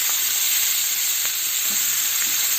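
Green capsicum and fennel fry in a pan with a loud, dense, steady hiss of sizzling oil, and faint stirring scrapes sit under it, all close up.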